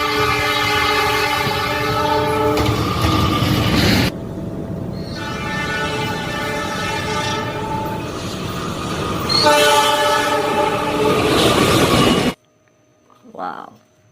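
An Indonesian train hauled by a CC206 locomotive passes close by, with a loud sustained horn blast, heavy rumble and rolling wagons; the horn sounds again later before the noise cuts off abruptly.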